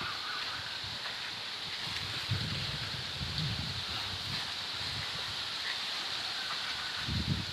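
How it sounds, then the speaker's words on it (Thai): Strong cold morning wind gusts through leaves outdoors, a steady broad rushing hiss with occasional low buffeting rumbles against the microphone, with no talk. "ลมแรงมากเลย"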